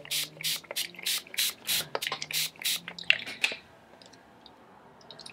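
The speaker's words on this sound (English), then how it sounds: "I just want to spritz my page to get it a little bit wet" A fine-mist spray bottle spritzes water onto paper in a quick series of short hissing bursts, close by, then goes quiet.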